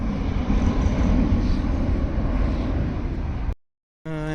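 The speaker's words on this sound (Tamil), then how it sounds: "என்ன சொன்னால் ஃப்ளைட்டு போச்சு," An airplane flying overhead, a loud, steady low roar with broad rushing noise held close for several seconds, then cutting abruptly to silence before a brief different tone.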